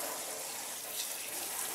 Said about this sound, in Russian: Смываю первый шампунь собаки. Регулирую температуру воды,